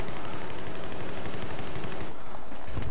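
Rapid DAO-12 shotgun fire in Battlefield 3 Close Quarters plays as a dense, continuous barrage of loud, close blasts with a brief dip before the shots resume at the end.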